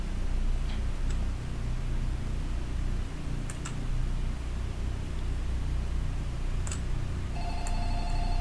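A telephone in the Roblox horror game Light Bulb Reillumination starts ringing near the end with bright, repeating electronic tones over a steady hum and scattered clicks, with no voices.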